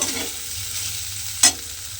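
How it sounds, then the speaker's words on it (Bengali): Soybean chunks frying lightly in a pan give a soft, steady sizzle while being stirred, with one quick scrape of the spatula near the end, close and moderately quiet. "সয়াবিনটাও কিন্তু আমি হালকা করে একটু ভেজে নেব"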